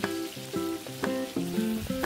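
Chicken pieces fry gently in oil with whole garam masala for a Bengali chicken rezala, a close, moderate sizzle broken by short pulses of stirring through the brief stretch.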